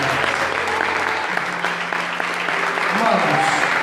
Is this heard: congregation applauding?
yes